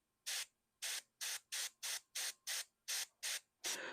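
Airbrush spraying paint onto a Warhammer Ultramarines miniature in short, evenly spaced hissing bursts, about nine quick puffs close to the mic, with quiet pauses between them.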